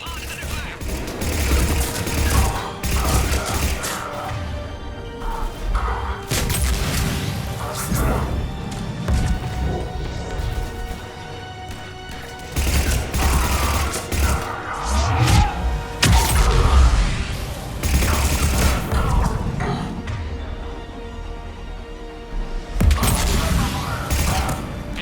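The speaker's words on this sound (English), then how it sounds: "Enemy still present. Pod is under fire." Gunfire striking a pod in the sci-fi shooter Mass Effect 3, loud repeated bursts and crashing impacts in clusters throughout, with occasional voices in between.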